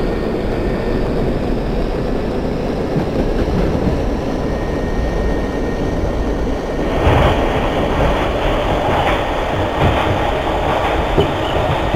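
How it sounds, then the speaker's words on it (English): A New Jersey bound Q local train on New York's subway, simulated in OpenBVE, runs with a steady loud rumble of wheels and motors; about seven seconds in, a brighter, harsher rail roar swells over it. "This is a New Jersey bound Q local train."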